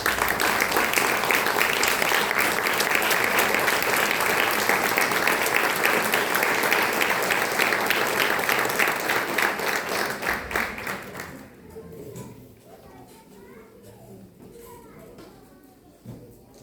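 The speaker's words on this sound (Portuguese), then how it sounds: "dá uma linda salva de palmas para Jesus" A church congregation at a communion service breaks into loud, dense applause that holds steady for about eleven seconds, then quickly fades into quiet room murmur and soft voices.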